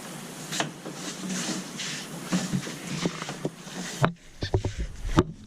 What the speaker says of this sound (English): I'm just pumping the whole time.